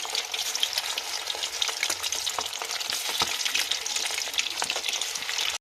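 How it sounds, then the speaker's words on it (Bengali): Onion and capsicum frying together in a pan for chilli chicken, a dense continuous sizzle close up with scattered crackles and pops throughout, no one speaking. "অন্যদিকে আমি পেঁয়াজ ও ক্যাপসিকামকে একসাথে ভাজতে দিয়ে দিয়েছি।"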